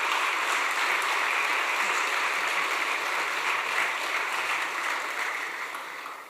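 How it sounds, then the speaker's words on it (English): Audience applause after an inspiring talk-show conversation, a dense steady wash of many hands clapping, loud and continuous before fading slightly at the end, with no talking over it. "Can we please get another round of applause"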